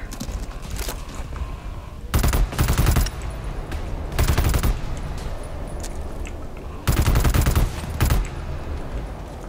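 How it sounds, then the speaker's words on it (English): Gunfire in the co-op shooter GTFO, with bursts of rapid automatic shots that come in loud clusters and gaps of quieter ambience and scattered single shots between them. "They're sniping the hell out of me right now."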